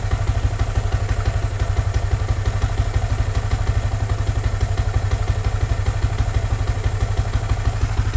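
Motorcycle engine idling after warming up during live tuning, a loud, close, steady rapid putter with a constant mechanical clatter throughout.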